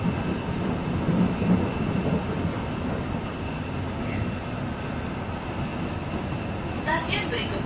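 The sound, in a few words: KRL commuter feeder train running toward Manggarai station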